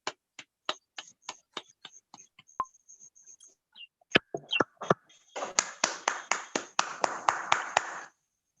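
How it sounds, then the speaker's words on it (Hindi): Clapping picked up over a Zoom webinar: isolated, evenly spaced single claps at first, then a brief quiet patch, then a denser cluster of overlapping claps building before stopping abruptly. "आप सभी से जोरदार तालियों की अपेक्षा करता हूं"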